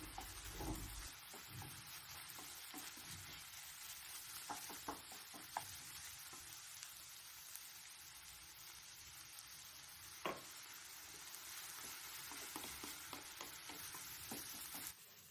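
Minced meat and potatoes with tomato paste, parsley and a little water simmering in a pan, a soft, faint continuous sizzle dotted with small ticks and occasional pops, quiet and without voices.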